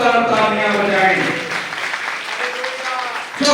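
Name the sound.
audience applause for Jesus at church service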